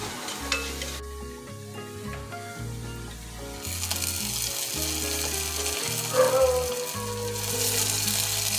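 Hot tempering of shallots and mustard seeds fried in oil is poured into a traditional Kerala-style curry, giving a steady sizzle that swells near the end, with light clatter and no voices.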